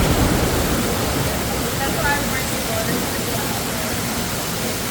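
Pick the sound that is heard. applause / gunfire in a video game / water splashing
water splashing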